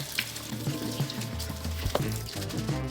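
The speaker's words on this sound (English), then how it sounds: "So just let that go for a little bit under the water." Brown rice is rinsed under running kitchen tap water during meal prep, a steady close hiss of flowing water and splashing in a sink, with faint clinks of the grains and strainer.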